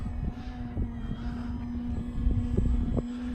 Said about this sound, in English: it has got a really good power plant in this plane